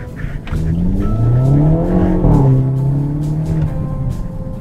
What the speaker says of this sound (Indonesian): Suaranya ada loh, ada crackling popnya di knalpot.